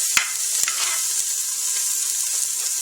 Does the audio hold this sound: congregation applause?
no